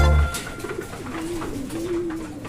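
Pigeons in a breeding loft coo nearby, a low, drawn-out rolling call repeated over a few seconds after a brief thump at the start.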